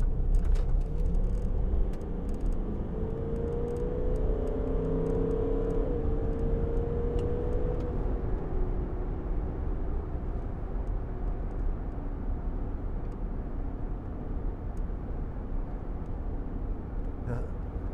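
A roughly 2-ton vehicle on all-terrain tyres revs under throttle, a rising and falling engine tone swelling around the middle of the clip over steady low rumble and background noise, with some talk mixed in.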